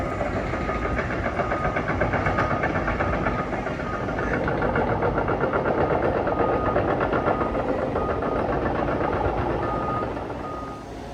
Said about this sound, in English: The crawler going.